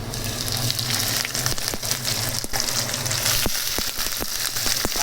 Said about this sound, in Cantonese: 見到佢咧已經係都熱咗啦，咁咧可以放條魚落去啦